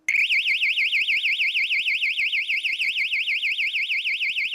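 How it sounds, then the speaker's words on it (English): A piezo siren driven by a power transistor on a homemade alarm clock shrieks alone, a loud, fast warbling tone rising and falling rapidly and without a break. "the power transistor switches on and off the piezo siren"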